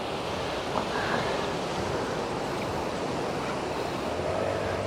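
Ocean surf rolling onto Baga Beach in Goa at sunset, a steady wash of waves with a little wind noise, continuous and fairly even with no voices.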